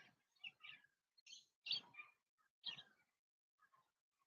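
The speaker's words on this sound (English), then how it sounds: "And you can hear all the birds." Birds chirp on a morning in an Oregon pine forest, short bright calls in several separate bursts with quiet gaps between them, faint and fairly distant with no voices.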